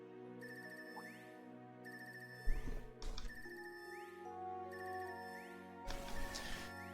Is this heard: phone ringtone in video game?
yes